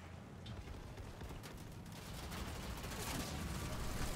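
Turrets in Halo Wars 2 fire a dense, continuous barrage during a ground battle. The rattling fusillade holds a fairly quiet, constant level and thickens slightly toward the end.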